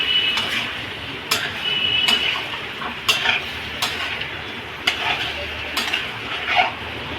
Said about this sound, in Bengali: দইটা দিয়ে একটু কষাবো,